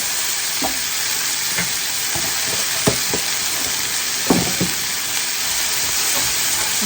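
Mussels gathered by hand in Sweden are stir-fried with large spring onions in a hot pan, giving a steady, close sizzle broken by intermittent scraping and clacking from the stirring utensil.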